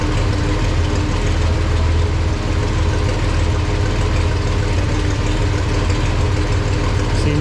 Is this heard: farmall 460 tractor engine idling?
yes